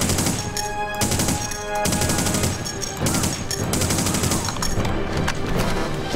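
Gunfire from a weapon in The Punisher video game: sustained rapid automatic bursts, loud and dense, running almost without pause with a few short breaks between volleys.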